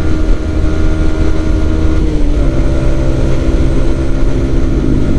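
A Yamaha XSR 155cc motorcycle on a touring ride, its engine droning loud and steady throughout with a slight pitch shift midway, heard from the rider's position with no speech.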